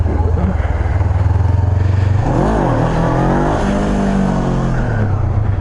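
A Honda CB500F motorcycle revs hard during a wheelie attempt, a loud, close engine note that climbs and falls in a rising-then-dropping sweep, with a throbbing idle before it.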